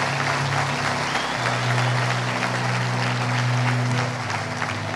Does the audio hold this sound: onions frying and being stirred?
no